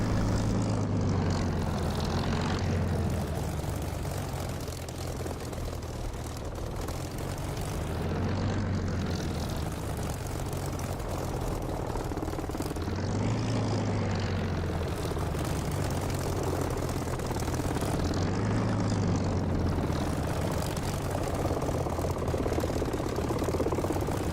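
Spitfire aircraft engine in the DCS flight simulator game: a steady, loud propeller engine drone that holds throughout, with rhythmic swells in its low throb every few seconds and no talk.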